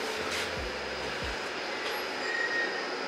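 Paris Métro line 3 bis train rumbles along the track inside a carriage, with two low thumps of wheels over rail joints and a steady mechanical hum throughout.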